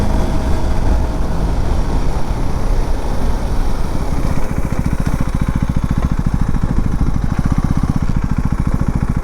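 A KTM Duke 390 Gen 3 motorcycle at speed, its engine droning loud and steady throughout with a dense low rumble and wind noise, the firing pulse growing more distinct in the second half.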